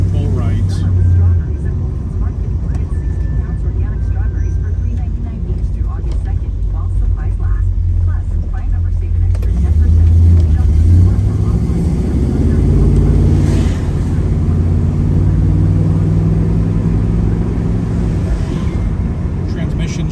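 A 1970 Chevrolet Chevelle cruises down the road, a low steady engine drone and road rumble heard from inside the car with a slight rise partway through, while someone talks over it.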